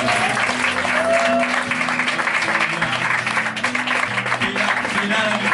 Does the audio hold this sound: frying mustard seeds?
no